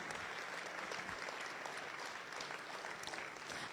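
Steady, dense applause from an audience at a municipal New Year's greetings ceremony in Autun, a continuous wash of many hands clapping at moderate volume, with no speech over it.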